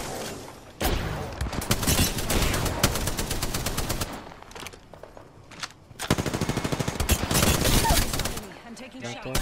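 Rapid automatic gunfire from Apex Legends in two loud sustained bursts separated by a brief lull, close and dense, with a voice talking over parts of it.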